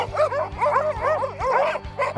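Sled dogs at a kennel barking and yipping in a steady, overlapping chorus, several dogs close by with rapid repeated barks and no voices over them.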